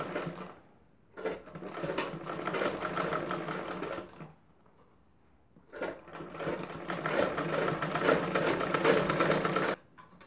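A sewing machine stitching a blouse sleeve, running in two sustained bursts of rapid, even mechanical whirring with a short pause between, close and fairly loud, no speech.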